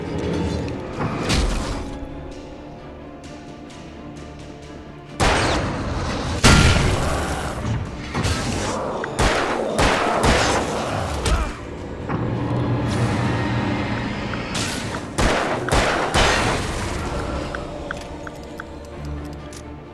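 Hunting rifle fire in the video game Alan Wake, several loud booming shots spaced irregularly with metallic clinks and reload clatter between them, over a low game ambience.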